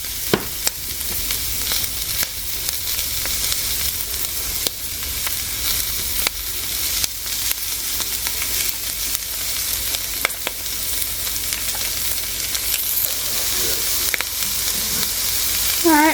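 Jalapenos, poblanos and onions fry and char in a pot, giving a loud, dense sizzle that carries on steadily with scattered crackles and stirring scrapes, close up and without talk.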